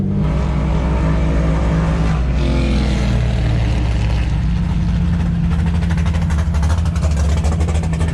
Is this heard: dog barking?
no